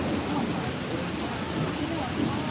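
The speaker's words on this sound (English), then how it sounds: "there's the thunder." Heavy rain pours steadily and close by outdoors at Montreal during Formula 1 race time, with a deep rumble of thunder mixed into the constant broadband hiss; no one speaks.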